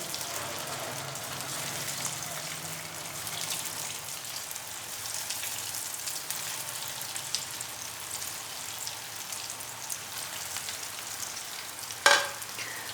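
Potato tikki kebabs frying in hot oil, a steady close sizzle and crackle running throughout with a brief sharper spatter near the end; no talking.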